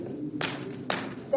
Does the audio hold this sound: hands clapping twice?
yes